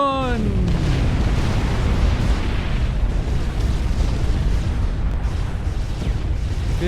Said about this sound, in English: Here comes the nuke.